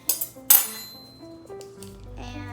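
A bowl and a knife are handled in a kitchen: two sharp clinks of metal against dishware ring out near the start, followed by softer clatters and a fading ring.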